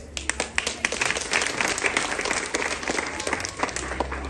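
A crowd at a Women's Day celebration breaks into applause, many hands clapping in a sustained, lively patter with sharp individual claps standing out, loud and close throughout.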